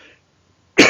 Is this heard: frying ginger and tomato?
no